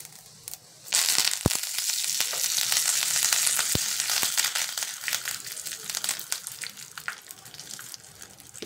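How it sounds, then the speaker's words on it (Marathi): Mustard seeds and curry leaves crackle and sizzle in hot tadka oil in a small pan, a loud, steady frying hiss with sharp pops, close up and with no talking. "मोहरी तडतडली की घालायचा कढीपत्ता।"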